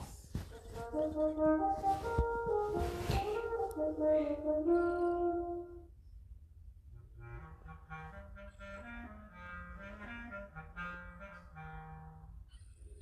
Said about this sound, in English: Little Whale sounds like this.